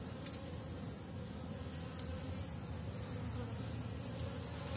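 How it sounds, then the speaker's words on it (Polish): Honey bees buzz steadily around a beehive, a dense, continuous hum with no talking. "Bardzo ładne pszczółeczki nasze kochane."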